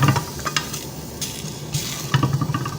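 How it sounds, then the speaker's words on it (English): Pork browns in a dry frying pan with no oil, giving a close, steady sizzle and crackle with scraping and stirring clicks on top. "Allow the pork to get brown"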